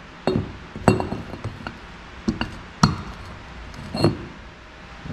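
Small parts from a Z50 carburetor drop and clink into a glass bowl, a series of sharp separate chinks and taps spaced irregularly over several seconds, close and fairly loud.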